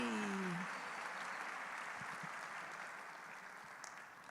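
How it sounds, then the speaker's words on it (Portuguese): A church congregation at a family worship service applauds warmly, steady dense clapping that fades slowly toward the end, after a brief vocal note at the start. "queria que vocês recebessem com um aplauso bem caloroso, bem gostoso"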